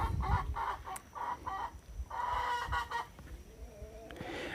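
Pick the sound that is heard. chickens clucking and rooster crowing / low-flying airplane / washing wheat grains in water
chickens clucking and rooster crowing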